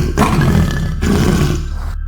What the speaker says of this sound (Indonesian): Namun, harimau itu tiba-tiba menggeram.